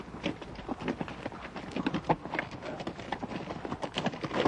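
Mules or horses walk on a Grand Canyon trail, their hooves clip-clopping in an irregular, continuous series of close, moderately loud strikes.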